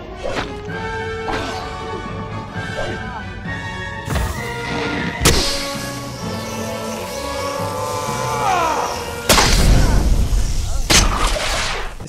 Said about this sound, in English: sound effects for combat are very impactful and contribute to the feeling of weight present in the combat